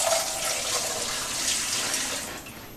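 Tap water running steadily into a pressure canner, filling it to about two inches for hot-packed beef canning with four jars; a continuous, fairly loud broadband splashing rush that holds throughout.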